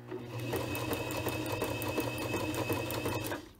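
A sewing machine stitching a buttonhole in fabric, running in a fast, steady run of needle strokes up to the end of the slider before stopping.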